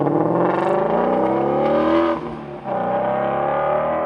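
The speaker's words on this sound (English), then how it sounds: "the flat plane crankshaft combined with our exhaust manifolds and the vehicle exhaust system provides a very, very unique sound" A Ford Mustang GT350 flat-plane crank V8 revs loudly and steadily with a deep, throaty harmonic roar, dips briefly in pitch and volume, then climbs back to a sustained high rev.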